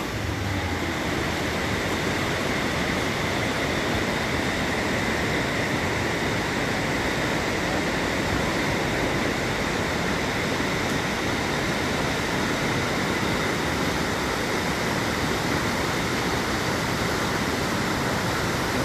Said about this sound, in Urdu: لہروں کی آواز سنیے